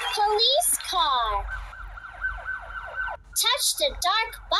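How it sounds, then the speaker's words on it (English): Police car siren from a children's car game, a cartoonish wailing and warbling electronic siren that sweeps up and down, loud and close, with brief breaks between cycles. "Police car."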